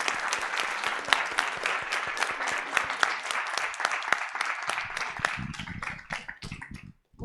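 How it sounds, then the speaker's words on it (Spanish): Audience applause for a teacher at the close of a lecture session, sustained dense clapping lasting several seconds before tapering off near the end. "les pido un fuerte aplauso para la maestra Carla"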